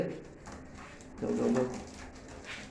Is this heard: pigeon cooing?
yes